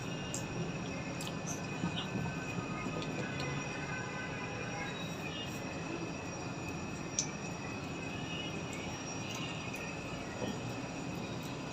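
Mini lachha parathas fry a few at a time in a little hot oil in a kadai over a stove turned up slightly from low, making a soft, even, continuous sizzle that stays faint and unbroken.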